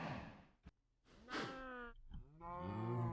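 Cows in the Minecraft video game moo in a few drawn-out, tonal calls, separated by short gaps and a brief thunk, fairly quiet and with no talk over them.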